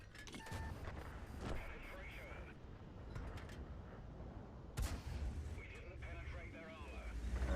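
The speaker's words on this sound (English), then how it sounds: "Skoda T-25 shot and killed his driver, so he gets him back straight away." Tank gun blasts from a Skoda T-25 firing on a T-150 in the World of Tanks video game: a few sharp, loud booms spaced seconds apart over a steady rumble of battle noise, with someone talking underneath.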